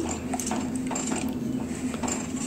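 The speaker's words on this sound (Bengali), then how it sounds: "এখন যে চিনির ক্যারামেলটা করে রেখেছিলাম তার মধ্যে দিয়ে দুধটা ভালো করে মিশিয়ে নিচ্ছি" Milk is stirred into sugar caramel in a bowl, a spoon clinking and scraping against the sides in quick, irregular strokes over a steady low background hum.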